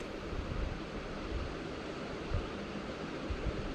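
River water flows steadily at a crowded riverbank in the early morning during a Kavad Yatra pilgrimage at Sehore, a soft continuous rushing hiss with faint low thumps, fairly distant and without speech.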